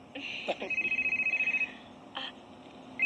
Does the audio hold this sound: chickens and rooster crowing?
no